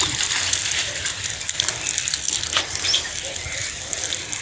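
Soapy water poured over a houseplant, giving a steady broadband splashing and trickling wash that runs throughout at moderate level, with faint voices underneath.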